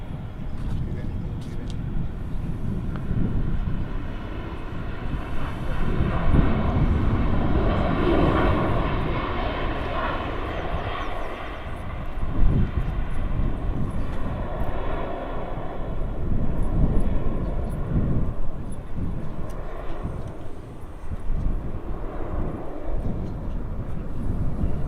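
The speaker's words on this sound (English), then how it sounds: "Ryanair 737 touching down here from Milan." Ryanair Boeing 737 touching down at Manchester Airport after a flight from Milan, a loud, close jet roar that swells and fades in waves, with voices breaking in now and then.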